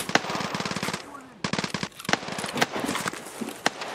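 Gunfire in Escape from Tarkov, with rapid automatic bursts and sharp single shots in quick succession, loud and close, while players talk over the shooting.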